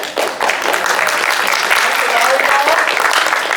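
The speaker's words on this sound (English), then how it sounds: "Let's give them a round of applause." Loud, dense audience applause fills a Saturday afternoon youth activities gathering, the clapping steady and close after a brief start, with voices mixed into the crowd.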